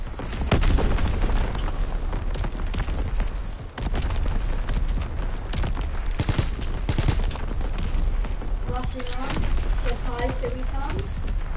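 An artillery strike in the World War II Call of Duty video game pounds its target, a continuous barrage of heavy booms and rattling gunfire filling the scene, with voices sounding briefly over the din.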